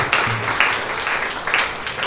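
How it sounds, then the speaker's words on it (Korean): Congregation applauding in a church, a brief steady burst of clapping from a crowded room, fairly distant and diffuse, with no talk over it. "우리 성경학교에 참여할 모든 아이들을 위해서 박수 한번 주실까요?"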